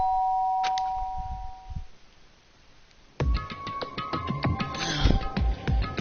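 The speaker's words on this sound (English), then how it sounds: "did I hear the doorbell?" A doorbell chimes in the video game Danganronpa: Trigger Happy Havoc, a clear two-tone ding near the start, followed by quiet and then a busy burst of game sound.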